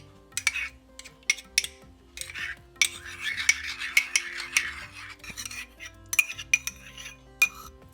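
A spoon stirs curd into tomato pachadi, giving sharp metallic clinks and scrapes against the bowl in an irregular rhythm, close and alone with no talk.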